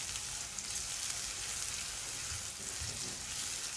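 Onions with curry leaves sizzle and fry in a pan, a steady soft hiss with faint stirring clinks, no talking.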